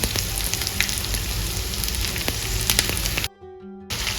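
Sliced onions frying in a pan with ginger, garlic and chilli for Kerala-style pepper chicken, a steady loud close sizzle with occasional crackles, briefly dropping out before resuming.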